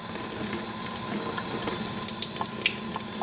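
Water added to Oxbow Critical Care powder for syringe feeding a chinchilla, a steady close trickle and slosh running continuously with faint clicks, no talking.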